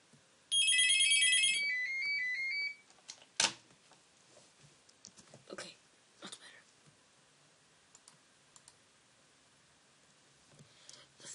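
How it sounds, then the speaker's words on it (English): A phone ringtone plays loud and clear for about two seconds, then cuts off, followed by scattered clicks and faint game sounds. "The phone's ringing."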